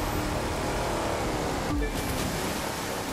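Steady broadband wash of ocean surf in the racing game The Crew 2, loud and continuous throughout with a brief swell in the middle, no talking over it.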